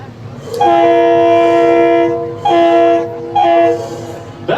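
Three blasts of a horn sounded by friends on a dock beside the Minne-Ha-Ha paddlewheel steamer on Lake George: a long blast followed by two shorter ones, loud and steady, with a rich stack of harmonic tones and rain-like hiss underneath.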